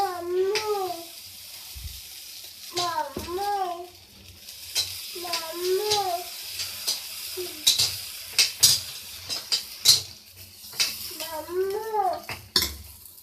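Millet dosa batter made from foxtail and pearl millet is spread across a hot tava, giving a steady sizzle with soft scraping strokes and occasional clinks; faint tonal sounds like a distant voice recur in the background.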